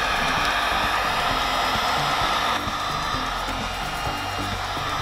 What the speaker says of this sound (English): we think it's safer to use a hairdryer or a heat gun